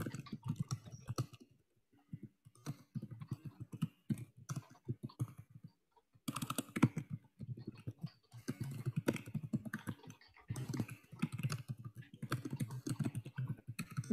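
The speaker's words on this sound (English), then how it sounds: "I'm not even looking at my spelling. I'm just typing." Fast typing on a computer keyboard, dense bursts of clicking keys broken by short pauses, close and fairly quiet with no voice.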